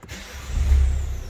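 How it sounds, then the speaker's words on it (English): A Citroën C4 Picasso 1.6 e-HDI diesel engine starts with a brief crank that swells into a low, steady idle rumble, close by. "Let's start the car up."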